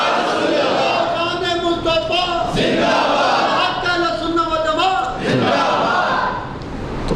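A large crowd at a religious gathering shouts a slogan in unison, loud, repeated bursts of massed voices rising and falling across the clip.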